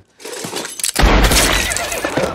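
In a film scene, a horse whinnies as it is shot. A quiet lead-in breaks into a sharp crack, followed by a loud, sustained burst of noisy, dramatic sound.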